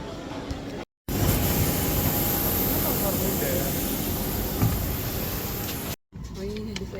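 Cabin noise aboard a passenger flight from Dubai to Mangalore, a steady dense roar of engines and air filling the space, constant and fairly loud, briefly cut off at both ends.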